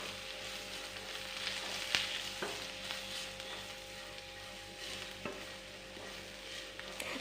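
Ground spice powders stirred in a pan over a low flame for an egg curry, a soft steady scraping and faint sizzle with occasional sharper clicks of the spoon against the pan.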